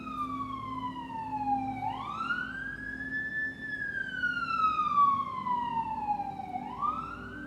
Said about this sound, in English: That's why we have these sirens out here.